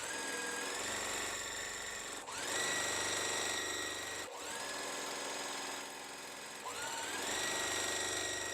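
A sewing machine stitches quilt block pieces for a designer mystery quilt in steady continuous runs, its motor whirring close and fairly loud with a few short pauses and restarts between seams.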